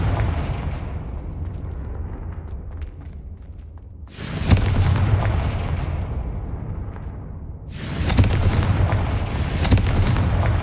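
A Confringo blasting curse goes off in a Hogwarts video game, two loud explosive bursts that swell into broad, rumbling roars and slowly decay over a steady low game ambience, with no talk.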